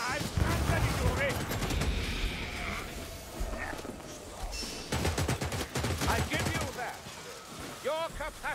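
Rapid bursts of gunfire from a Ratling gunner in Warhammer Vermintide, loud and close, with dense fusillade-like volleys over game noise and occasional voices.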